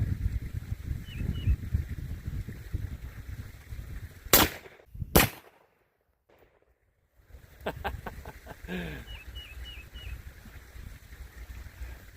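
Dead Air Wolfman suppressor on a 5.56 NATO or 9mm firearm, two sharp muffled shots close together amid outdoor background noise, followed by quieter clicks and faint bird calls.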